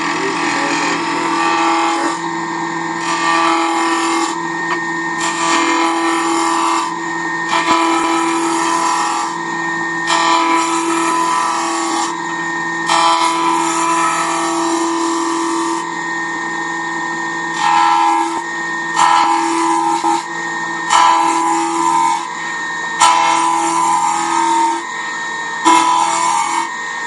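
Mahogany box blank spinning on a wood lathe during a roughing cut, the gouge biting steadily with a loud, continuous whirring hum and rhythmic surges of scraping chatter as the tool passes back and forth.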